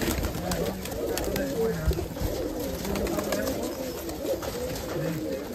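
Giribaz pigeons in a rooftop loft coo softly and continuously, a dense murmur of low throaty calls with a few flutters and background voices.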